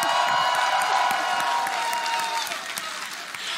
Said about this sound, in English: look at the crowd. Listen to the crowd.